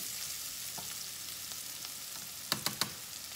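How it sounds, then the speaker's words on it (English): Oil sizzles softly in a frying pan while oregano is stirred in, a faint continuous hiss broken by three quick sharp scrapes of the utensil near the end, with no one talking. "Stir it."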